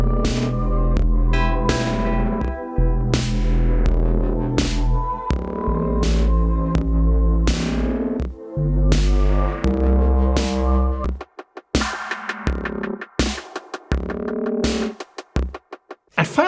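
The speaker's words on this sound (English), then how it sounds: "I want to add some rhythmically moving overtones to the more or less static sub bass." A deep synthesized sub bass drone sits under pulsing, rhythmically echoing delay overtones, with notes repeating and decaying in a steady pattern. It is loud and has no talking.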